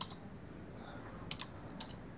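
Folder name being typed on a computer keyboard, a handful of light, quick clicks in irregular bursts over a steady background hiss.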